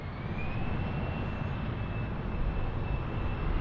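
A United Airlines airliner from Chicago, flight 953, at Munich Airport gives a steady, fairly distant broadband engine roar with a faint high whine, heard alone without talk.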